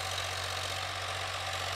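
A Sonalika 745 DI tractor engine runs steadily with a constant low hum and drone, heard close and fairly quiet, with no talk over it.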